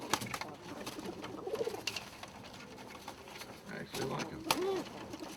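A group of young Thai lapper and Arabian trumpeter pigeons coo in a loft. Their soft, rolling coos repeat and overlap against a busy background, with a voice speaking at times.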